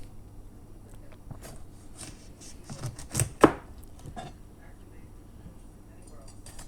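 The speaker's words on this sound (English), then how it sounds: "we start by taking the top off the capsicum" A knife slicing the top off a capsicum on a cutting board, with a few soft cuts leading to one sharp crunching chop near the middle, then quiet kitchen background.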